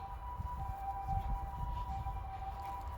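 An ambulance siren sounds at a steady distance, a sustained wailing tone running the whole stretch over low rumbling background noise, with no voices.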